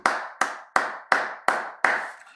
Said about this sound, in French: On acclame plus fort pour le roi des rois.